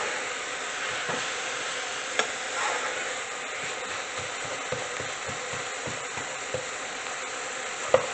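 Frozen garlic and onions frying in a pan while being kept moving, a quiet continuous sizzle with soft scattered taps of a utensil and a couple of sharper knocks.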